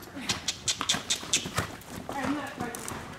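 Horse hooves cantering in a riding arena, a series of rhythmic dull thuds at moderate distance while a riding instructor talks over them.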